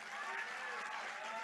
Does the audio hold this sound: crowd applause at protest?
yes